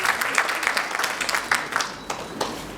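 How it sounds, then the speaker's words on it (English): Audience clapping for themselves after a speech, a smaller group giving a few seconds of irregular, fairly close claps that taper off toward the end. "Please clap for yourself."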